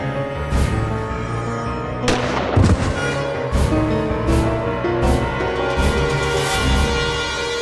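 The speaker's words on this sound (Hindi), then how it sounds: "द्वितीय इन्होंने मनोज पर गोली चलाई।" Sharp gunshot sound effects ring out in a dramatic courtroom-style scene, several loud cracks and booms spaced a second or so apart, each with a short echoing tail over a low background.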